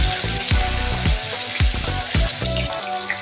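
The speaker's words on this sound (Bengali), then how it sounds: "একইভাবে অপর পিঠটাকেও খুব ভালো করে ভেজে নেব" Steady sizzling of rohu fish pieces frying in a hot pan, with a few sharp crackles and pops of oil breaking through the continuous hiss.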